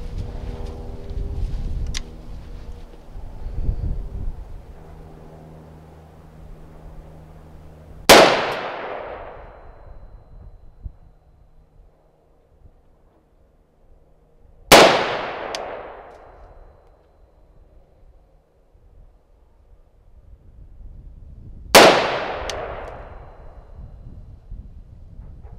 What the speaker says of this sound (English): We're going to fire 5 rounds of Hornady tap ammunition out of the SOCOM rifle.